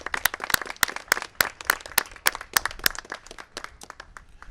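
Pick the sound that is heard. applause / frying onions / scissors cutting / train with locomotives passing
applause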